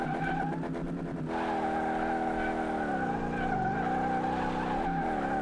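A Mustang drifting in Car Mechanic Simulator, with a sustained loud engine roar and squealing tires whose pitch wavers and swoops as the car slides, continuous throughout.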